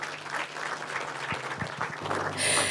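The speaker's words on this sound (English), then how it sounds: "Please let's give them a round of applause." An audience at an environmental summit gives a short round of applause, steady moderate clapping from a crowd that swells slightly near the end.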